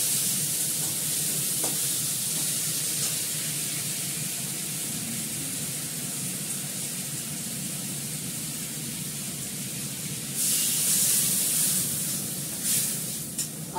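Fish and potatoes cooking together in a pan with ginger paste, onion and coriander leaves, a steady close sizzle and hiss with a brief louder spitting burst near the end.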